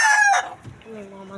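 A rooster crows once, loud and close, the bright strained call fading out after a moment, followed by quieter farmyard sounds and faint voices in the background.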